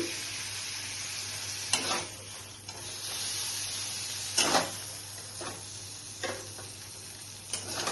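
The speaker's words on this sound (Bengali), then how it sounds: "একটু ফ্রাই করে নিচ্ছি এভাবে করে ফ্রাই করে তুলে নিয়েছি।" Steady frying sizzle in a pan up close, punctuated by several scraping stirs and clinks of a utensil against the pan, no voices.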